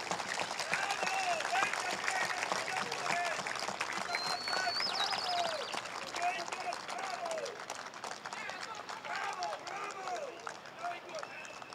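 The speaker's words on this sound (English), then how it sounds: "Another round of applause for Jean," An audience at a talk on accountability in Singapore clapping steadily, a continuous rattle of applause with voices and cheering mixed in, moderately loud and fading slightly toward the end.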